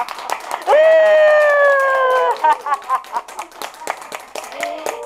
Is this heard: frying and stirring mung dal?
no